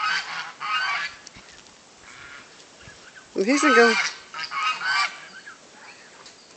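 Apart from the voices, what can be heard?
geese honking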